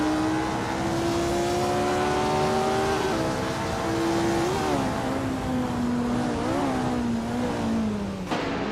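Racing cars in a racing game, including a 1967 Ferrari 312, with a steady, loud engine whine rising and shifting pitch through gear changes as the car accelerates, ending with a brief sharp click.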